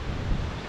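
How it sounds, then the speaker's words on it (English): Rushing water of a stream at Florence Falls, a steady broadband wash that stays constant and fairly close for under a second with no voices. "definitely sounds a lot more water flowing through this one than the last one"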